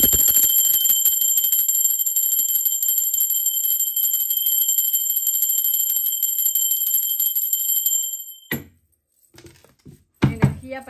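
A bell rings with a steady, sustained high tone for about eight seconds and then stops abruptly. A few brief knocks and clatters follow.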